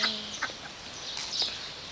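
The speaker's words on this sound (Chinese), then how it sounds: "你们这一群鸭子在干嘛？" Ducks in a park flock, short clucking, quack-like calls scattered over a steady background hiss, fairly faint and a little distant.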